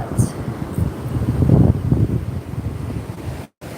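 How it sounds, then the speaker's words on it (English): Strong wind at a beach buffets the microphone with a low, rumbling roar, gusting louder midway, then cutting out briefly near the end. "it's really windy"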